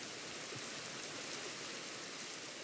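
Steady rain falls in Minecraft as a constant, even hiss that fills the clip without breaks and with no voices.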